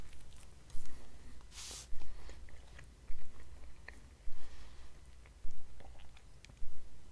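Close-up chewing of a Wendy's jalapeno chicken popper sandwich with bacon and melted cheeses, a steady rhythm of wet, squishy bites about once a second, with one brief louder rustle partway through.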